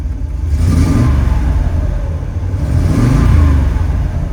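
A 1966 Chevrolet Corvette Sting Ray with the L79 327 V8 revs close and loud, two rising surges of engine roar over a steady throaty idle.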